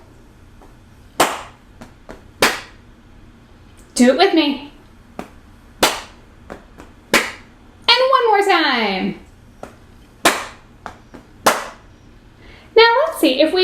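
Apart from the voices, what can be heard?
hand clapping rhythms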